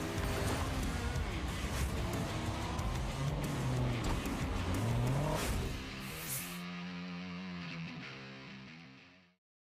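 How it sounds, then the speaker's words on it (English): Monster truck racing video game with loud, continuous revving engines and roaring motors filling most of the stretch, dropping to a steadier, quieter drone near the end before fading out. "When was the last monster truck racing game?"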